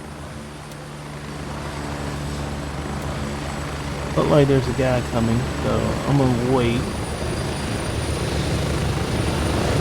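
An extraction helicopter in the game Gray Zone Warfare drones steadily with a low rotor beat throughout, loud and close, while someone talks over it in the middle.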